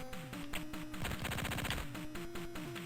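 Chiptune-style rapid gunfire from diagonal shooting in the 1993 Tandy Color Computer 3 game The Contras, a quick run of shots over steady beeping game music.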